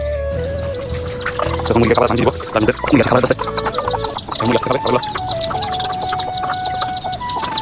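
Chickens cluck and cackle on a poultry farm, a busy, close chorus of clucks and squawks with louder bursts in the middle, while people talk now and then.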